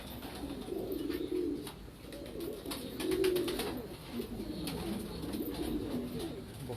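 Pigeons of a Mumbai breed being handled and shown off coo in low, rolling phrases that swell and fade steadily, close by and fairly soft, with faint clicks and handling noise around them.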